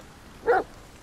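A single short dog bark from The Medium, one clear muffled woof at moderate volume against quiet background.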